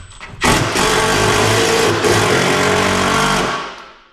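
A powered driver sends a screw into the mounting for an electrical panel during a 150A to 200A service upgrade, giving one loud, close, steady motor whir lasting about three seconds before winding down.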